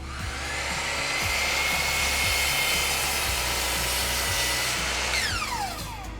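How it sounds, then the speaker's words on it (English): A hand planer shaves a freshly cut wooden board with a loud, steady whirring hiss that runs almost without a break, then rises in pitch as the cut ends. "When using the hand planer"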